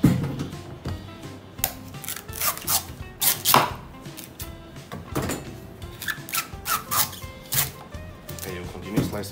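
A knife slicing and chopping through a coconut husk, a run of sharp, irregular cutting strokes and scraping rasps at close range, some in quick clusters, with brief quieter gaps between.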